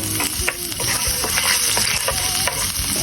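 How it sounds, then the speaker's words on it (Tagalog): Garlic sautés in a pan for a buro mustasa dish, a steady close sizzle with scraping stir strokes from a utensil throughout, no voices. "Tapos, magigisa na tayo. Una na natin ng bawang."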